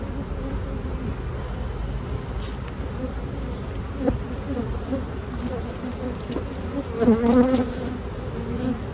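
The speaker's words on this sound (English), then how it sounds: "Somewhat pissy bees." Agitated honeybees buzz steadily around an open hive as a heavy frame of capped honey is lifted, a dense close hum with a brief louder swell of nearby wingbeats toward the end.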